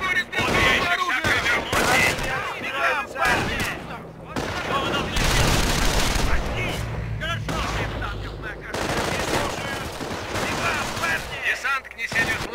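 Rapid bursts of gunfire and booming cannon shots in Company of Heroes 1 overlap almost continuously, with shouting voices mixed in throughout.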